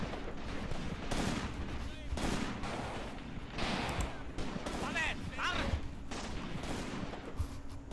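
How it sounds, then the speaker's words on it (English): Bursts of rifle and machine-gun fire crackle across a town battle in the World War II tactics game Graviteam Tactics, set at Shilovo in 1942, with scattered and overlapping volleys over steady background noise and voices under the shooting. "We're already receiving some fire from other parts of the town"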